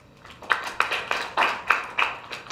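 Sharp hand claps come from an audience in a patterned sequence of distinct, evenly spaced bursts. The claps are moderately loud and there is no talk.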